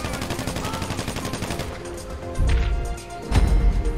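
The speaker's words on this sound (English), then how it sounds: "Ooh, they shot me hard." GTA Online gunfire in rapid bursts, a fast steady rattle of automatic shots followed by heavier booming impacts near the end, loud and close.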